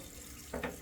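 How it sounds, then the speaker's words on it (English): Cold water from a tap starts running, a brief, close splash of flow heard alone at low level. "now what I'm doing is I'm turning on the cold water to run"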